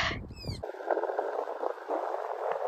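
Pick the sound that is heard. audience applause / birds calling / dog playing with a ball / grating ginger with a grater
birds calling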